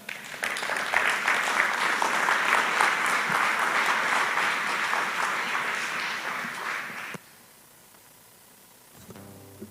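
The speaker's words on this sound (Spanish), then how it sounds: "recibámoslos con fuertes aplausos" A church congregation at a Bible conference gives loud, sustained applause to welcome guests. The clapping stays full for about seven seconds, then cuts off sharply into near silence, with a faint low sound at the very end.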